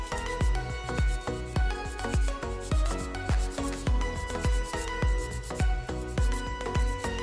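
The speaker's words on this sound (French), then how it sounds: "on va limer. Donc je prends le grain le plus fort, vu que c'est pour la capsule" A coarse-grit nail file scrapes an acrylic nail capsule in quick regular strokes, each rasping pass close and distinct, repeating about twice a second throughout.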